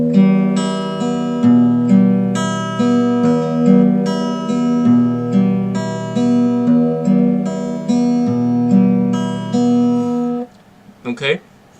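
Guitar plays a bass line and melody together in a steady picked pattern, notes ringing clearly; a brief voice comes in at the very end.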